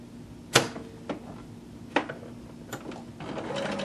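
Sewing machine running a basting stitch close to the edge through several layers of fabric for a skirt, heard as a few short close bursts of stitching separated by pauses, with no voices.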